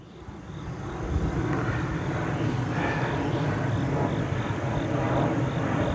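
Holzfforma G366 chainsaw engine running on nitro methane, a steady loud droning roar that rises at the start and then holds at high revs without letup.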